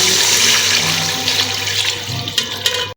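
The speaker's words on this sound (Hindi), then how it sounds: "अब जो हम 3 गिलास इसके अंदर जो है वो पानी के ऐड करते हैं।" Water pours into a cooking pot of roasted potatoes for a curry, a steady rushing splash filling the pot up close and continuous, tapering off with a few small clinks near the end.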